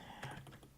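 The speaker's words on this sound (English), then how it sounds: "I've been typing too long today." Quick, quiet clatter of fingers typing on a computer keyboard while working in Unity, a short run of soft clicks over faint room hum.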